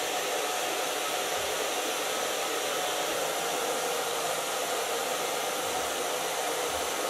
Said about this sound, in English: I start blow drying, of course.